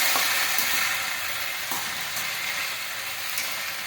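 Okra sabzi sizzles steadily in a hot pan as it is stirred and mixed, a continuous close frying hiss with soft scraping, and no voices.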